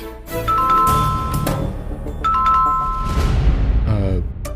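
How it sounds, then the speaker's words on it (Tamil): A two-tone electronic doorbell chime rings twice, bright and clear, over a low background hum and some music-like tones. "யாருன்னு தெரியல, காலிங் பெல் அடிக்கிறாங்க"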